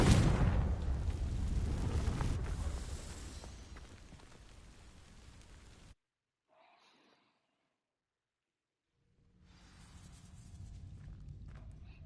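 A Confringo fire spell blasts and ignites dry vines in a video game: a loud burst with roaring, crackling fire that dies down over about six seconds, then near silence with a faint flicker before a low rumbling ambience returns.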